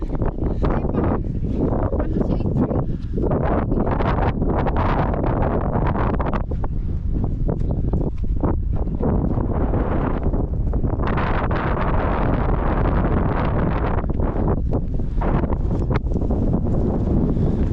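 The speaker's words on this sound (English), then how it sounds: "I don't know what you can hear because it's quite windy" Strong gusty wind buffets the microphone on an exposed hilltop at Rodney's Pillar, a continuous loud roar that surges and eases throughout.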